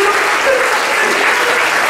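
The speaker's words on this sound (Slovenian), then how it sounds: "A jim bomo zaploskali." An audience at a kindergarten anniversary celebration applauds steadily, a dense, loud wash of many hands clapping throughout with no pause.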